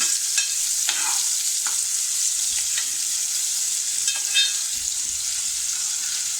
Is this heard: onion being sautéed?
yes